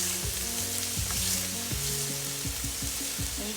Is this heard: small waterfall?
no